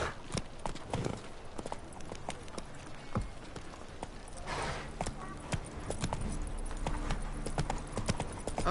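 Horse hooves clip-clop steadily at a gallop in The Witcher 3, a continuous rhythmic pounding in the near field, with faint rain-like patter and ambient game sound behind it.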